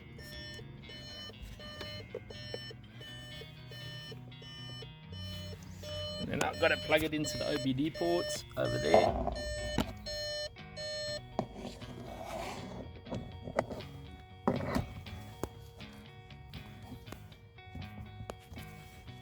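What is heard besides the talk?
car electronics beeping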